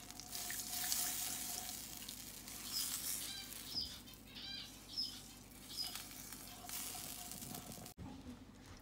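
Milk is poured into a saucepan in a home kitchen, making a faint, quiet trickling and splashing of liquid with a few soft clinks.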